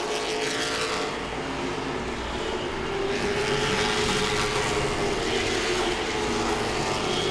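Late model stock cars race at Langley Speedway, their engines a loud, steady roar across the whole stretch, rising and swelling as the pack passes close by, with no voices over the noise.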